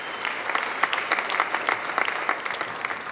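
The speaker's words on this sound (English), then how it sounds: "Give them a round of applause." A crowd at an awards show gives a round of applause, with sustained, busy clapping at moderate loudness and no talking over it.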